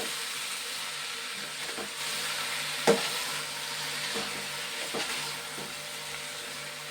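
Food sizzles steadily in a hot pan while being stirred and mixed, a soft continuous hiss with occasional scraping clinks and one sharper knock partway through.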